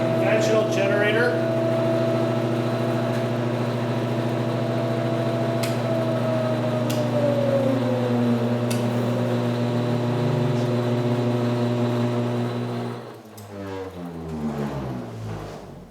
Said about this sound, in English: Operate the generator as a conventional generator.